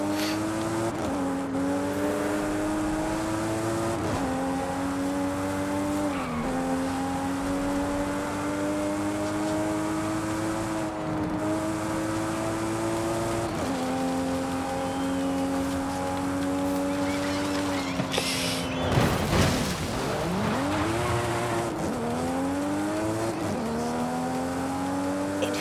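A car engine in the open-world racing game Forza Horizon 5 drones steadily, rising and falling in pitch as it accelerates and shifts gears, with a brief harsh burst near the end and navigation voice prompts in places.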